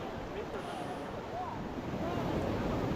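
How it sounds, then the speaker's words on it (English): Ocean surf washing up on a sunny California beach with golden sand and rocks nearby, a steady broad wash of water with wind rumble, continuous and moderately loud throughout. "the way the water washes up on shore"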